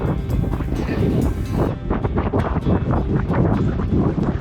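A sailboat heading upwind in near-gale conditions on a rough passage from the Marquesas to the Tuamotus, with strong wind roaring across the microphone and the hull pounding and splashing into waves in repeated heavy surges.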